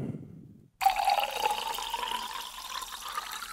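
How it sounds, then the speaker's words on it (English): Sparkling water being poured, a sudden fizzing splash that settles into a steady bubbling hiss, close and moderately loud, following a brief low rumble. "not such a pleasant drink sound. That's the sparkling water."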